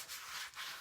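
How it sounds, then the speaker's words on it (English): A soft sanding pad rubs wrinkles off a globe in two quick, faint, breathy strokes, close up. "you can basically just sand them right off or buff them right"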